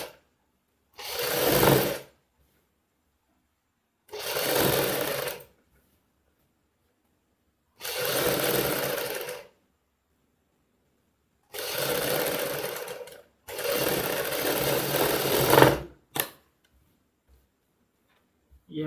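Sewing machine stitching the neckline of a Punjabi suit, whirring in five distinct bursts of a second or two each with silent gaps between, close and clear with a faint mechanical ticking, no talking.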